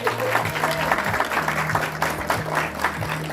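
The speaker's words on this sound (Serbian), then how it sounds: "Molim jedan aplauz za njih." Applause from a crowd at a quiz contest, steady clapping that fills the space for a few seconds with no one speaking over it.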